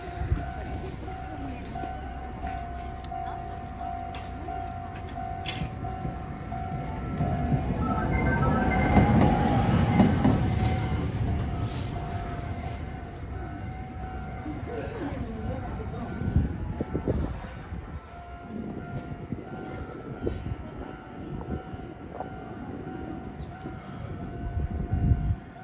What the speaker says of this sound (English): Oh, there's a tram there.